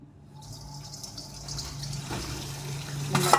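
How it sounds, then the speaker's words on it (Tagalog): Water drained from a pot of cooked pasta in a home kitchen, a running pour that builds gradually with a low hum underneath, ending in a brief sharp splash and clatter. "I-drain lang natin yung tubig."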